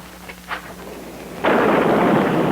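A sudden loud, broad roar of heavy storm rain or rolling thunder on a stormy night swells in midway and holds steady, after a few faint, brief sounds at the start.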